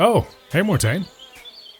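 Bees buzz around a hive in an audio drama, a faint insect drone under a short spoken greeting, with the voice dominating the front half.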